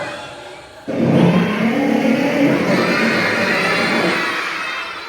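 A voice imitates a revving motorbike, a loud buzzing drone that starts abruptly and holds steady for several seconds before slowly fading.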